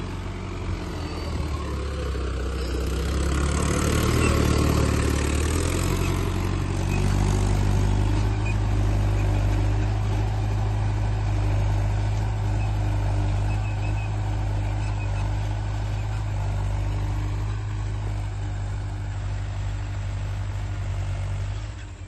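A Mahindra 575 tractor engine runs steadily in a field, a loud, deep diesel drone with a low throbbing hum that swells briefly before settling into a constant, even rumble.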